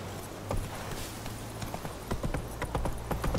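Close, loud clip-clop of a horse's hooves from The Witcher 3 on Xbox One, uneven steps that tighten into a quicker trot near the end, with no speech.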